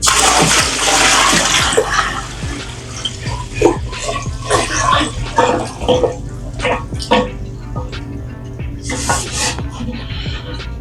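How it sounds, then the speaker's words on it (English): Water poured from a pot into a Spider Farmer gravity-fed self-watering system, a loud rushing pour at first that thins into splashes, trickles and drips as it settles. "We're gonna add our final pot of water just because."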